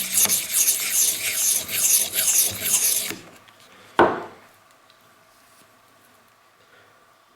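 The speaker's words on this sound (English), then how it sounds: "now I'm going back over everything, just super light strokes. I'm not pushing down at all" Light, unpressured strokes of a knife against a sharpening stone while serrations are ground off the blade, a dense continuous rasp for about three seconds, then a single sharp tap and near quiet.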